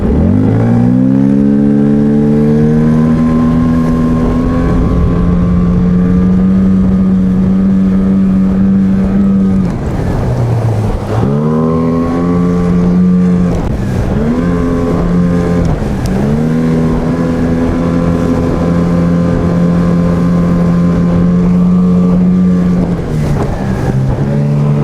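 A Tohatsu 9.8 outboard on a Flagman 330U boat drones loudly and steadily up close, its pitch dipping and climbing as the throttle changes, with wind and water noise throughout.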